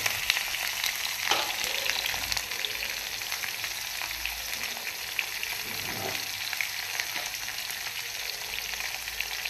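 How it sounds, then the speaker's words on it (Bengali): Steady, dense sizzling of chopped onions frying in hot oil, with occasional stirring scrapes, continuous and close throughout. "এবার দিয়ে দেবো পেঁয়াজ কুচিগুলো ভাজতে"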